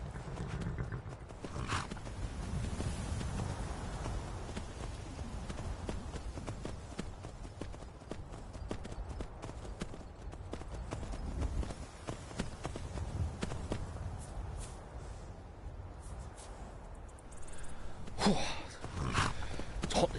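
Horses walk along at a steady pace, hooves clip-clopping in an irregular rhythm over a low outdoor rumble, moderately near, with a few breathy sounds and no clear speech.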